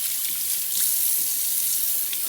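Warm tap water runs steadily into a sink, rinsing freshly Procion-dyed cotton and Tencel yarn held under the stream; a continuous close, even splashing hiss with no talk.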